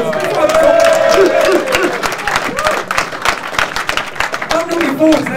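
A crowd claps and cheers for a fighter at a mixed martial arts press conference, lively applause with scattered whoops and voices mixed in, close and loud throughout.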